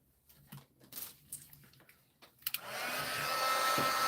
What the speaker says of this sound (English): Let's pull in our heat tool here.